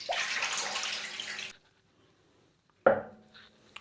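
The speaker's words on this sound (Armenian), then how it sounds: "հիմա լցնում ենք ընդամենը 1 լիտր ջուր" Water poured from a container into a bowl of spices in one steady rush lasting about a second and a half, then a short splash and clatter after a pause, close and quiet.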